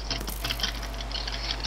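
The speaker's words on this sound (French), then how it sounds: "Il se met à pleuvoir." Rain starting to fall in the video game Minecraft, a light, rapid patter of small ticking drops over a steady low hum, continuous and fairly soft throughout.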